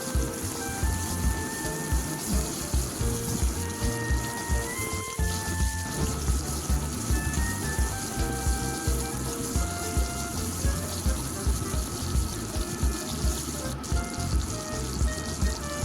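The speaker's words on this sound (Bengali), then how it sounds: "টমেটোকে আমি প্রথমে একটু তেলের সঙ্গে হালকা করে কষিয়ে নেব।" Tomato sautéing in hot oil in a pan for a Bengali potato dish cooked with fish oil, giving a steady, loud, continuous sizzle and crackle without pause.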